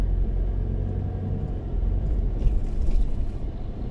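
Jeepney engine rumbling steadily through downtown Legazpi City traffic in Albay, a continuous low drone of motor and road noise heard from inside the moving vehicle, with faint higher hiss swelling briefly toward the end.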